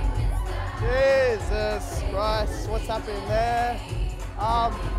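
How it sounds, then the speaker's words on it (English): Crowd noise in a nightclub, a loud steady hubbub with whoops and shouting, and close talk running over it throughout. "The crowd is decent tonight"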